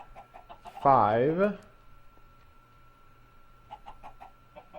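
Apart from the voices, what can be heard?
chickens clucking in a chicken house, Minecraft TerraFirmaCraft video game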